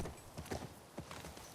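Horse hooves clip-clop in The Last of Us Part II, a few soft, uneven steps at moderate distance under faint game ambience, with no one talking.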